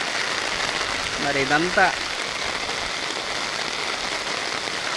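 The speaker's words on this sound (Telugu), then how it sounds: "మనం చూసినట్లయితే భారీ వర్షం ఇక్కడైతే పడుతుంది." Heavy rain pours steadily on rice paddy fields during transplanting, a loud, dense, continuous hiss, with someone briefly speaking over it.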